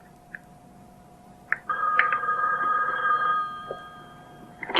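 A landline telephone rings in a quiet room, a sustained electronic trill lasting a couple of seconds after a few faint clicks, fairly close and clear with no talk over it.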